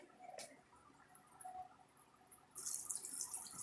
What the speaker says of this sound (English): the rest of this water, I'll just dump right back in here